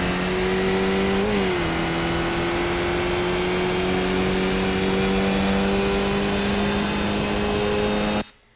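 A Skip Barber race car in the iRacing game at the Nurburgring, engine droning loud and steady with a quick dip in pitch as it shifts up a gear, then holding a sustained high tone until it cuts off.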